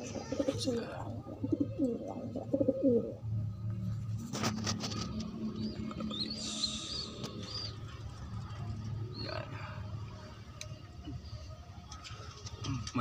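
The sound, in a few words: young pigeons cooing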